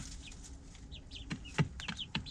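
Chicks chirp with short, high peeps inside a chicken coop alongside a hen, faint and scattered over a low background, with a few soft clucks and shuffling taps.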